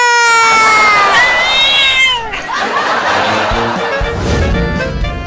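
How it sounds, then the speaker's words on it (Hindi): A cartoon cat yowls and meows with drawn-out, wavering cries while biting someone, loud and close, followed by scuffling noises and crowd-like laughter. "बचाओ, बिल्ली मुझे काट रही है।"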